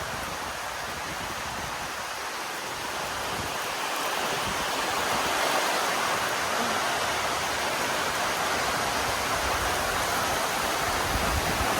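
Heavy rain with strong wind at Lago Amanã in the Amazon, a dense, steady roar of downpour that holds its intensity throughout, loud and close, with no voices.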